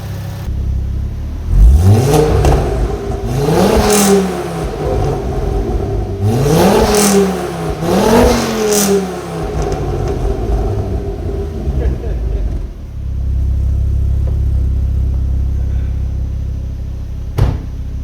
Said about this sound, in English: You didn't think I was going to do all that video and not give it some revs.